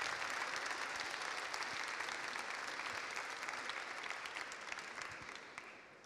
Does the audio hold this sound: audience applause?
yes